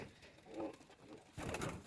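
Pigeons coo softly and close by at a pigeon seller's stall, low throaty murmurs rising in two brief swells.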